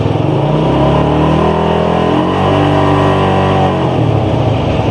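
A Suzuki Satria FU150 motorcycle engine runs in first gear, loud and close, with a rising and falling rev tone held steadily throughout.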